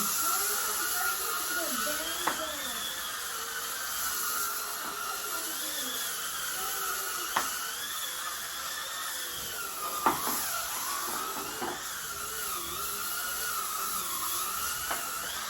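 A cordless power scrubber spins against a bathroom surface sprayed with soap scum cleaner, giving a continuous close motor whine that wavers in pitch as the brush presses and moves, with occasional knocks.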